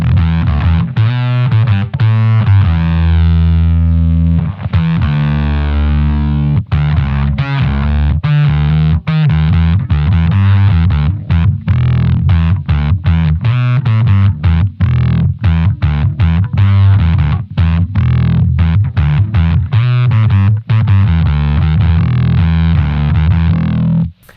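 Bass guitar runs through an LOE Sounds Super Fuzz pedal, giving a loud, thick, heavily distorted tone as a continuous riff of choppy, rhythmic notes plays alone for over twenty seconds.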